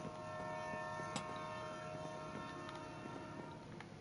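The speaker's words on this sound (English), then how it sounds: "The episode ends with the haunting horn of a train." A long, sustained train horn closing a Tom and Jerry cartoon, a steady droning blast held for several seconds over faint background noise.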